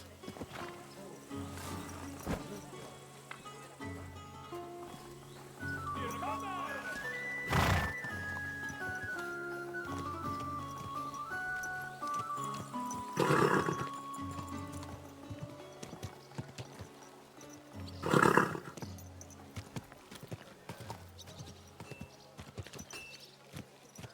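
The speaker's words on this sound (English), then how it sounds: "Easy, good horse." Horses in the medieval role-playing game Kingdom Come: Deliverance II give three loud, drawn-out whinnies spaced several seconds apart, over a steady clip-clop of hooves and a soft musical score, with brief speech also present.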